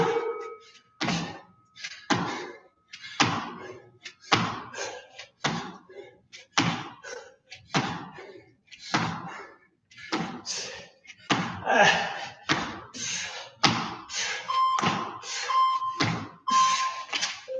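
Feet land in repeated thuds during a final round of squat hops in a home workout, a steady rhythm of impacts roughly every half second, close and fairly loud, with some breathing and movement noise between landings.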